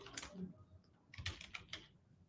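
Keys clatter on a computer keyboard in short quiet bursts of close clicks, a quick run of typing with brief pauses and no voice.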